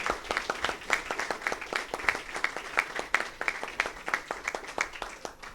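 An audience at a digital-workshop inauguration evening applauds in a steady, moderately distant round of many hands clapping at a brisk, even pace.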